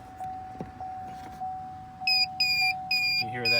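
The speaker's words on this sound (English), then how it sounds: "You hear that beep." A Chevy Colorado gives a series of short electronic beeps after an OBD2 programmer is plugged into its port, sounding close and clear over a faint steady tone, with speech in the background.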